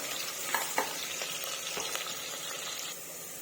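Onions sizzle in a pan while being fried toward brown for a mutton curry, a steady close crackle broken by a few scraping stirs and soft clicks of a spoon against the pan.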